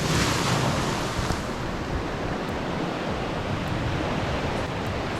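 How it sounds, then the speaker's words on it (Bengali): Ocean waves break on the beach at Shankarpur near Digha, a continuous loud roar of surf heavy with wind buffeting the microphone, with no break in the wash of noise. "পেছনে এতটা ঢেউ তো তোমরা একটু ঢেউগুলো দেখে নাও দেখো"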